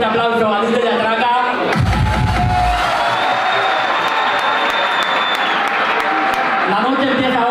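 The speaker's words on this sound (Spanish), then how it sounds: "quiero que deis un fuerte aplauso a Dice y Atraca" A nightclub crowd applauds and cheers loudly for the DJs, with a dense wash of clapping and shouting, a heavy bass thump early on, and a sustained tone running through the noise.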